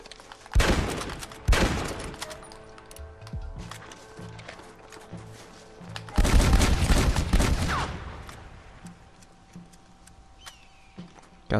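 Semi-automatic rifle fire in the Red Dead Redemption video game: a couple of sharp, loud shots early on, then a longer dense volley of rapid cracks, with quieter game ambience between the bursts.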